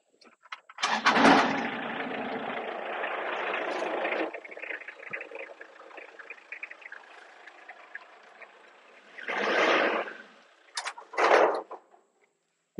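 A diesel Toyota Town Ace engine turns over and runs with a steady rumble, then shuts off and the loose bed side panels rattle, followed by a few bursts of clunks and knocks. No one speaks.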